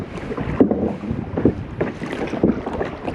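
Paddle strokes from a kayak on a wavy lake come in a steady rhythm of splashes about once a second, under gusty wind noise.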